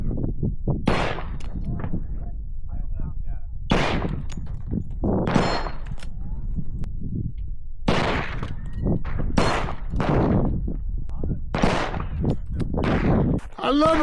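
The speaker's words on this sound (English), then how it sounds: "So we got our last set of targets set up, the metal targets, shooting from 25 feet away." Close shots from a 10mm TriStar American Classic II 1911 pistol at metal targets about 25 feet away, sharp cracks spaced irregularly across the clip, some followed by ringing clangs of steel.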